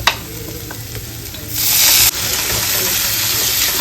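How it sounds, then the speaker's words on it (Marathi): Tomatoes go into a pan of onions frying with turmeric and salt, starting a steady close sizzle that swells into a louder hissing burst for about half a second before settling back to a constant fry, with no talk. "आता मी ह्याच्यामध्ये टॅमॅटो टाकते"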